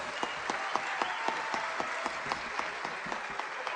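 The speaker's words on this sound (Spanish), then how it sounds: "para quien pido un caluroso aplauso" Warm audience applause greets a historical novelist taking the stage at a conference talk, a steady wash of many hands with distinct sharp claps popping out at a roughly regular pace, moderately loud and without voices.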